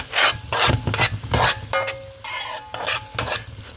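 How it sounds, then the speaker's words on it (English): Jamaican curry goat stirred in a pot with a large spoon, repeated close scraping and metallic clinks against the pot in an irregular rhythm. "I'm going to stir the pot."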